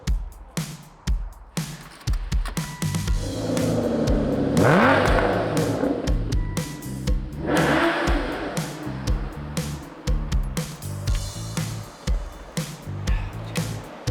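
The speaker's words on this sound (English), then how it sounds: "With Dan already questioning his choices, we cross the Keswick Bridge, where the winds are louder than his EV." Electric car driving across the Keswick Bridge on the NC500 route, a steady whir and broad wind rush that swell and fade, with faint motor hum and a few passing noise surges.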